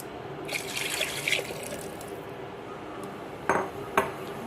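One and a half cups of water poured into a pot of rice mix in a home kitchen, a steady splashing stream that fades, followed by two sharp clinks of a vessel against metal.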